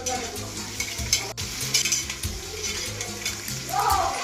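Onions sautéing in a pan for mutton biryani crackle beneath repeated scraping and clinking of a metal spoon against the pan, close and busy, with a short break in the stirring partway through.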